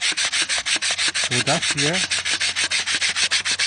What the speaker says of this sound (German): der Klotz hier mit 180er Schleifpapier gerade hin